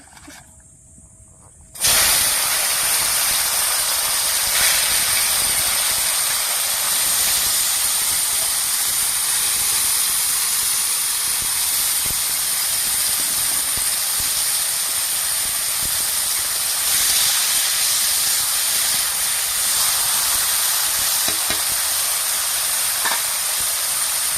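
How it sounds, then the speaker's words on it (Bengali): After a brief quiet moment, long beans hit hot white oil in a wok and burst into a loud, continuous hissing sizzle that holds steady and strong right to the end. "এবার বরবটিগুলো ভেজে নেব।"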